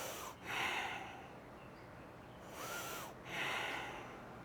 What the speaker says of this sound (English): 2 breaths.